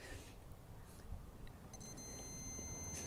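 A multimeter probing a car fuse on a Honda that cranks but won't start gives a faint, steady continuity beep that starts partway through and holds to the end over quiet background hiss.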